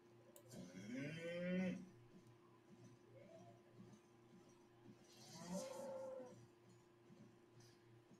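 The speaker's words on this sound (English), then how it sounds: "Moo." A cow moos in the online fantasy game Albion Online, two drawn-out lowing calls a few seconds apart, quiet and somewhat distant over a steady hum.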